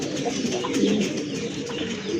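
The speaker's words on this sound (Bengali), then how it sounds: "বিগ সাইজের কবুতর" Big-size Baghdadi Huma pigeons coo steadily in a low, continuous murmur, loud and close, with several birds overlapping.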